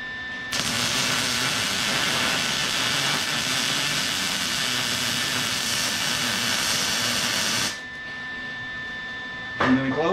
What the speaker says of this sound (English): weld that one in